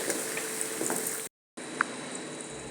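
Curry leaves, dried chilies, mustard seeds, cumin and garlic frying in hot oil, a steady crackling sizzle with a brief silent gap in the middle and a small pop afterward.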